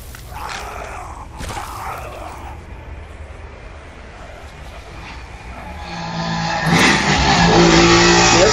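In a Five Nights at Freddy's fan game, a motorcycle engine revs up sharply toward the end, loud and rising, after quieter stretches with brief sharp bursts earlier on.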